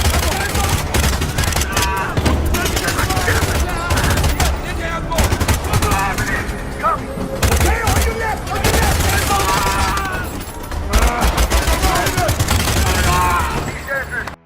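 Intense gunfire in an action film shootout: rapid machine-gun bursts and single shots crackle almost nonstop, loud and close, with shouting voices mixed in.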